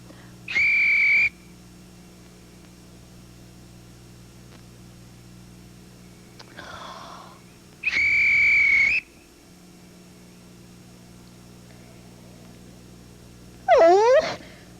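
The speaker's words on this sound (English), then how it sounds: "I've blown my whistle twice" A shrill whistle is blown in short sharp blasts, three distinct toots separated by quiet gaps, with a fainter sliding whistle near the end.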